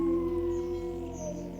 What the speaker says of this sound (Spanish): el hombre lobo desapareció en la oscuridad entre aullidos.